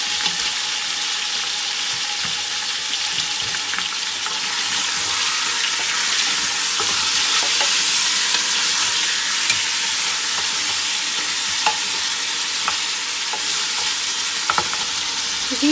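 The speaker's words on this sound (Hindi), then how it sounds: "ये 2-3 मिनट हो चुके हैं हम लोगों को गोश्त को भूनते हुए" Mutton pieces fry in a pan for nihari while being stirred, giving a steady, close sizzle with occasional scraping clicks of the spoon. No one speaks.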